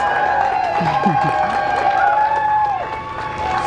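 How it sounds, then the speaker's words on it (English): A small outdoor crowd cheers and whoops for NASA astronauts Bob Behnken and Doug Hurley as they emerge, loud and close, with a voice talking over the cheering. "Small crowd, but big cheers."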